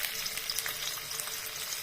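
Potato pieces fry in a little oil in a pan, producing a soft, continuous hissing sizzle with faint stirring scrapes over a short stretch, heard alone without any talk.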